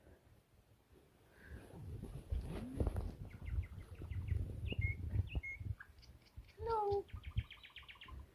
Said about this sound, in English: Shut up, bird. Bird's in there.